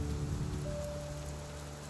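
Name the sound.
heavy cold winter rain in a cartoon story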